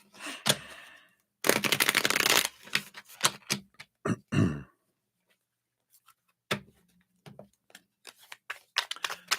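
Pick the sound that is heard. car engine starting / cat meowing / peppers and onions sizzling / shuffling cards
shuffling cards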